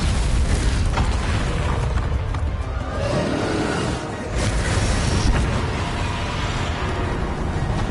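A Confringo blasting spell in the Hogwarts Legacy video game goes off as a heavy booming explosion in a spell-casting duel, loud and dense with rumbling low blasts and crackling debris running throughout.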